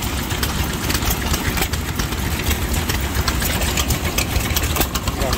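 An antique Novo gas engine runs belted to a small speed jack at an old threshers show, a loud, close, continuous mechanical chugging and rattle with a quick steady beat and voices faintly underneath.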